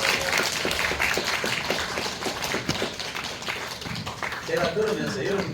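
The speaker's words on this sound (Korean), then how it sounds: "자, 박수 한번 해주세요" An audience at a winter church gathering breaks into clapping, a dense run of sharp claps that lasts several seconds at moderate volume, with a voice briefly audible near the end.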